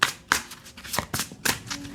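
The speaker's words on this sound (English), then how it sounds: "Now I'm going to shuffle a little bit more and then I'll be pulling from the top." A new tarot card deck being shuffled by hand close up, with several crisp riffling bursts separated by short pauses and a faint hand rustle in between.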